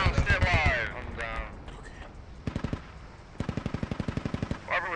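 Machine gun fire in the tactical shooter Squad rattles in two rapid bursts, a short string of shots followed by a longer sustained volley, with players talking over the firing.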